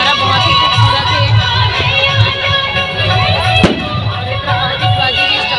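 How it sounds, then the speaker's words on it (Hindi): Continuous crowd noise with a steady low hum and a sharp distant bang partway through, fitting fireworks popping over a busy open ground at a Dussehra festival in Bhilai. "आतिशबाजी भी स्टार्ट हो गई है बहुत टाइम से।"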